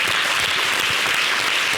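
A TV studio audience at a Christmas game show claps steadily and loudly, a thick unbroken wash of applause with no talk over it.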